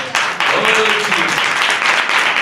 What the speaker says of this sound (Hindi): ताली बजा के प्रभु की तारीफ।